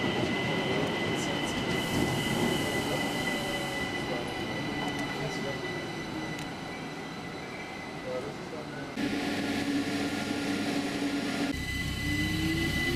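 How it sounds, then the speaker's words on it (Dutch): A regional train on the Salzburg line bound for Bad Reichenhall, Bavaria, runs with steady rolling rumble and rail noise, shifting in tone partway through as it passes, with wheel squeal and hiss heard continuously. "En deze trein heeft als eindbestemming Bad Reichenhall."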